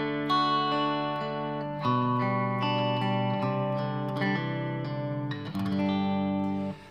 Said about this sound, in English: if I turn on the reverb a bit, it can make your guitar sound like, your electric guitar sound like an acoustic guitar